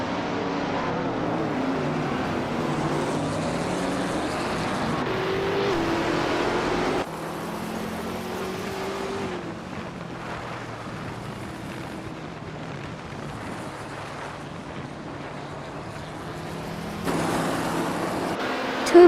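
Race cars roar through a racing video game, a continuous dense engine and road drone with tonal whines shifting in pitch, loud and steady with a drop in intensity midway, no talking.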